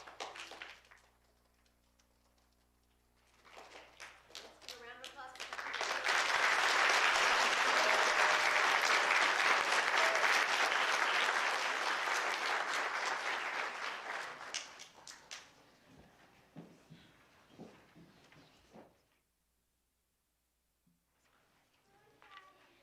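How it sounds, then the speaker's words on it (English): Audience applause fills a school awards chapel, a sustained burst of clapping that swells after a brief start, holds loud and dense for several seconds, then fades into scattered claps, with a voice speaking before and after. "I know I got really excited and started clapping right away too, but try to hold your applause till the end for the whole grade"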